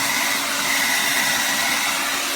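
A Revlon Turbo 1875-watt silver hair dryer runs continuously at close range, giving a loud, even, broadband blowing whoosh with a steady motor whine. No voice is heard.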